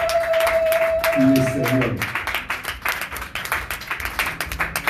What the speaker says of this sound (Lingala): Est-ce qu'on peut acclamer pour lui au Père de la gloire?